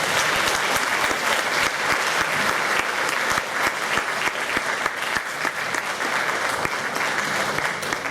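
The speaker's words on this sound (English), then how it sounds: "Give them a big round of applause." Loud, sustained applause from a large audience at a hall of fame induction ceremony, a dense, even wash of clapping that continues throughout without pause.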